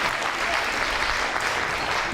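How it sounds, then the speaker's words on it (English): An audience claps steadily for children after a science demonstration with exploding custard, a brief even wash of applause from a crowd, moderately loud and continuous. "Give them a clap."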